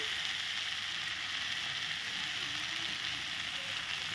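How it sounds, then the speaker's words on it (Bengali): Egg ghugni masala cooking down in a pan gives a steady, even sizzle and hiss for the whole stretch, close and fairly soft, with no talk over it. "মশলা দিয়ে সম্পূর্ণ কষানো ভালো করে হয়ে গেছে"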